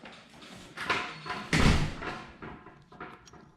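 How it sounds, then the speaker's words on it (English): A door closes with a single loud thud partway through, among quieter knocks and shuffling. "Close the door."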